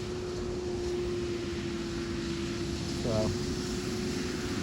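Steady engine drone with a constant tonal hum, a tractor running at about 20 mph on a road nearby, with a brief spoken word near the end.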